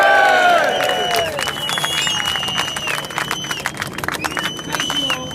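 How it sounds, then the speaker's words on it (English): A crowd claps and cheers for a deputy leader at a political gathering, a dense wash of applause with whistles and shouts, following a brief trailing voice at the start. "Big round of applause for Deputy Leader Jada Benson!"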